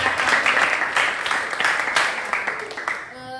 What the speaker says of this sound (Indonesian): Ya, kita beri tepuk tangan untuk teman kita yang